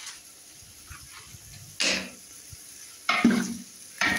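Onion frying in a pan over a wood fire, cooked for a mutton recipe, sizzles in short hissing bursts, with a soft crackling background between the louder spurts of stirring.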